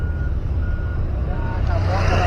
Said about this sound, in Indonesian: cukup banyak sekali truk dan alat berat yang sudah mulai beroperasi pada pagi hari ini